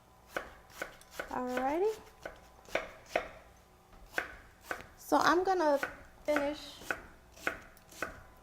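Vegetables are chopped on a cutting board with a knife in a home kitchen, sharp rhythmic knocks coming steadily and close. A person talks over the chopping now and then.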